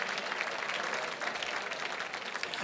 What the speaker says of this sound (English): a big round of applause for everybody at that level